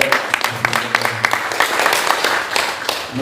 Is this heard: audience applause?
yes